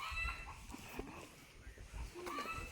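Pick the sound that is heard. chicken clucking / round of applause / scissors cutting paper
chicken clucking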